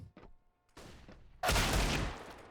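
Bursts of gunfire in a Counter-Strike match on the Train map: a couple of quick distant shots, then a loud sustained volley of rapid fire that crackles for about half a second before tailing off.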